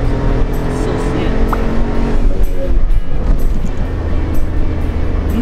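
A Suzuki Jimny JB64 with ECU tuning and changed tires climbs a slope in second gear, its engine droning loud and steady from inside the cabin while someone talks over it.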